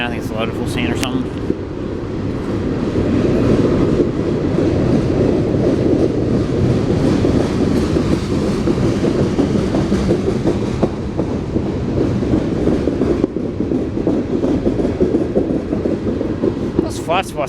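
Freight train with flat-spotted wheels rolling past close by, a steady loud rumble of wheels on rail with rhythmic clanking and some wind noise on the microphone.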